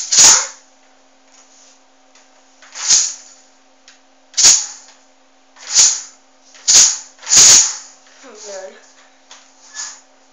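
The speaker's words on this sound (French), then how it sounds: "Désolée pour le bruit qu'il y a eu, mais c'est mon store." A series of sharp rattling clacks, about six in all, spaced irregularly, like a roller shutter being cranked, with quiet pauses between and a faint voice near the end.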